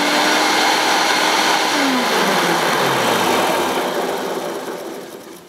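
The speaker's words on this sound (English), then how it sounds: "Would you like to see it going? Well, I'll turn it on. It's quite noisy." Hoover U1050 Turbopower upright vacuum cleaner with an activator brush roll running loud and steady, a dense broadband roar with a falling whine as the motor note drops, then fading out.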